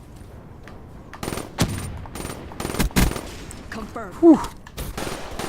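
Gunfire in the video game Black Ops 3, played with a Scuf controller on Xbox One: several sharp shots and short bursts scattered through the clip, with a player talking over the action.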